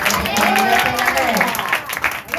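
A church congregation at Sunday worship claps, with scattered hand claps mixed with voices and a lively crowd murmur. The sound is loud and close and tapers off at the end.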